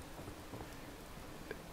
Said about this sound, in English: Just chilling in the rain